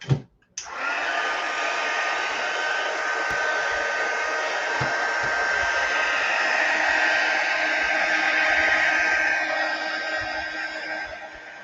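A hair dryer blows steadily on a gel print with mica, a loud, close, continuous whooshing roar that starts abruptly after a brief click and runs for about eleven seconds without talk.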